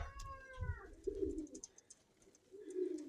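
Close, soft pigeon coos come in low throaty rolls, two or three of them, with faint chirps and some quiet background noise between them.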